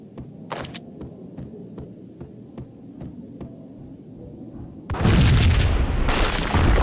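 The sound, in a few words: explosion boom in Max Payne video game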